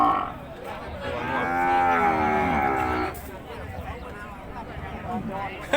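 A water buffalo lows at a Thai cattle and buffalo market, a long drawn-out bellow from close by, followed by a quieter second call with crowd murmur behind.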